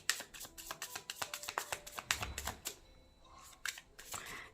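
Tarot cards being shuffled and drawn, a quick close run of crisp flicking riffles followed by a pause and a few softer card slides, with no talk over them.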